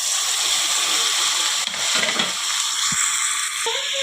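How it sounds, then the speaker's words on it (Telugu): Tomatoes drop into onions and ginger-garlic paste frying in oil for a chicken curry, giving a steady, loud close sizzle with a few soft stirring knocks and a brief splattering burst near the end. "ఉల్లిపాయలు అల్లం పేస్ట్ బాగా వేయించుకున్నాక ఇప్పుడు మనం టమాటో వేసుకుందాం."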